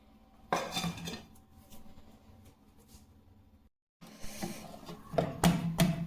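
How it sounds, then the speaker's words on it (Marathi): Dough for puran poli is mixed and kneaded in a bowl, producing close scraping, clinking and thudding handling noises in uneven bursts with a brief pause in the middle, and no voices. "मिक्स करून घेते आणि पीठ मळून घेते"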